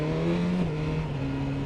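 A BMW S1000R naked motorcycle's engine, not yet warm, drones steadily on a motorway, with a strong sustained tone shifting slightly in pitch as it pulls, mixed with wind rush.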